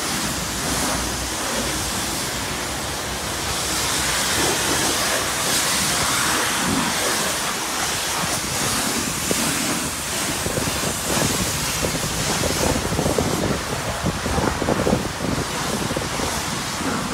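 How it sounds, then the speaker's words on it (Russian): A pressure washer rinses a car with wax and osmosis water at a car wash, a loud continuous hissing spray running steadily for the whole stretch. "смываем воском."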